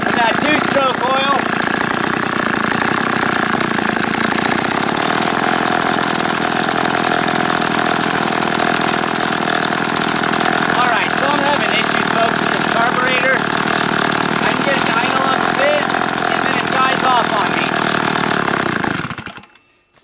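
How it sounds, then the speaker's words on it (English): A small two-stroke engine idles steadily on wood gas, a continuous buzzy drone held evenly for most of the run before cutting off near the end. "I've had this thing running now for a while. I can keep it idling like this."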